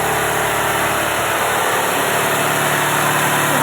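Cloth cutting machine in a bedcover factory in Hooghly, a loud continuous motor drone with a steady high-pitched whine, running without pause and close by.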